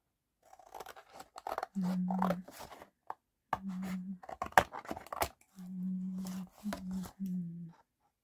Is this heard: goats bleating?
no